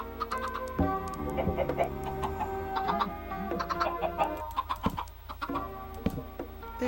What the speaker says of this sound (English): We got the chickens in here.